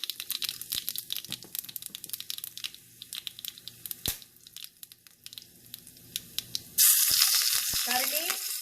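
Methi seeds and dry red chilies hit hot oil with scattered crackles and sharp pops, then a sudden loud burst of sizzling spits and hisses near the end, close and crisp, no talking.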